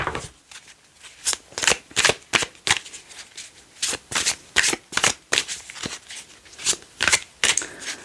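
Tarot cards shuffled and drawn by hand during a weekly reading, a close series of crisp riffling bursts and soft slaps repeating through the whole stretch, with no talking.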